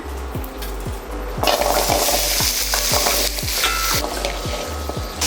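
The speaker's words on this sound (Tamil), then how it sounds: "வெங்காயம் தக்காளி வணக்கிறதுக்கு எண்ணெய் ஊற்றிக்கலாம்" Oil is poured into a hot pan in a village kitchen to sauté onion and tomato for mutton curry; a broad sizzle suddenly swells partway through over a steady, regular ticking in the background.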